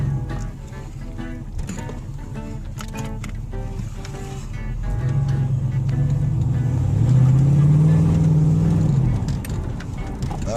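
An old car cruising after a cold start, its engine running steadily at low pitch and rising in tone as it accelerates. It is loud and close, with no talking.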